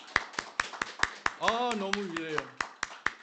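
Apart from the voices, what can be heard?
congregation applauding in church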